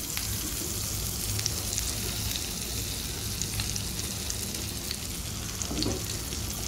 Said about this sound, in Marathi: थोडंसं बटर आपण घालणार आहोत आणि थोडंसं तेल घालणार आहोत